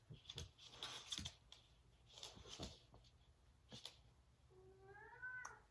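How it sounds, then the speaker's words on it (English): A house cat gives a short, rising-and-falling meow near the end, preceded by quieter rustling and faint clicks in a calm indoor room. "that was my cat"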